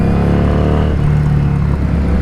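A 2017 Harley-Davidson Street 500 motorcycle engine runs with a loud, close, steady low rumble and throaty idle-like throb, the pitch shifting slightly midway, with no talk.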